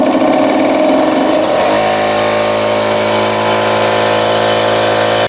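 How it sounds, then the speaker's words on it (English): Air compressor starting up in a cold shop beside a Ford 800 tractor under repair, a loud mechanical clatter that settles into a steady droning hum which runs without pause until it cuts off at the end. "Let's see if this compressor will fire up here."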